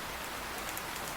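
Steady cartoon rain falls in a dense, even hiss of drops, continuous and fairly loud throughout with no voices.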